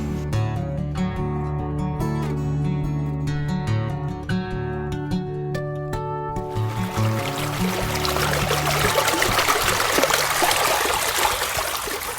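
Iron-rich, reddish water flows steadily near Chalice Well, a continuous watery rush that emerges after a sustained tonal drone fades and then fills the rest of the stretch at moderate loudness.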